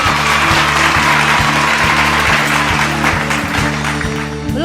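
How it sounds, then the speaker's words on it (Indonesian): Children's class at a Good Friday kids' service clapping along, loud, fast, continuous hand claps layered over a steady rhythmic music backing with a regular beat. "Ayo tepuk tangan semua yuk"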